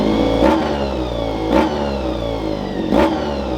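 A car engine starts and revs hard as the vehicle pulls away at once from cold, with three rising throttle bursts over a steady mid-pitched engine drone, close and loud.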